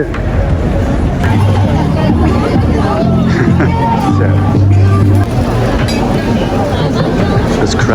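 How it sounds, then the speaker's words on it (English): A busy Saturday evening crowd in Taipei, an Asian capital, with a constant dense babble of many voices and the steady rumble of nearby traffic, loud and close throughout. "This crowd is insane."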